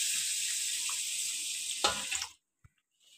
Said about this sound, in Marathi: आपण 3 वेळा असं तांदूळ स्वच्छ धुवून घेतले आहेत